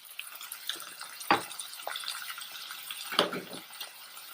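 Water splashes and drips into a pan in uneven bursts as soaked cashews are poured in with their water, two sharper splashy pours standing out against a soft liquid trickle.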